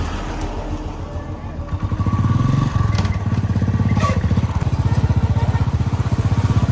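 Motorcycle ridden on the road toward Badrinath, its engine putting out a steady close throbbing drone that grows louder as it picks up speed, with wind and road noise mixed in.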